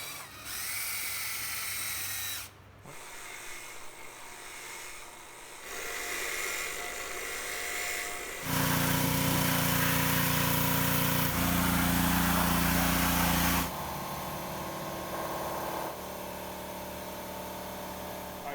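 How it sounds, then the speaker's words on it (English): A valve grinder spins engine valves from a BMW 540i, a steady high-pitched mechanical whine that shifts pitch and loudness in several sections, with brief pauses and a louder stretch in the middle, close and continuous. "we're just sticking them in the valve grinder, putting them on here, and spinning them like this"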